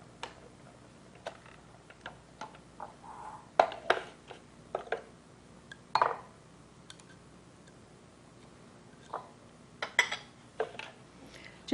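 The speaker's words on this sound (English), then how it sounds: "I'm going to put it right back in the same bowl and then just stir in the dill." Dill stirred into a creamy sour-cream stroganoff sauce in a bowl, giving scattered soft taps and scrapes of a utensil against the bowl, irregular and close, with no talking.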